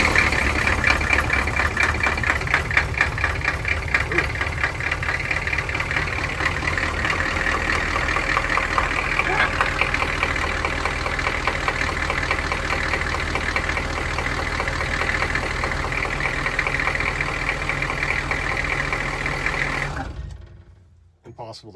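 A Humvee engine idles steadily after its first start following troubleshooting, a loud, constant rumbling drone with a rapid knocking pulse that runs for about twenty seconds before cutting off abruptly.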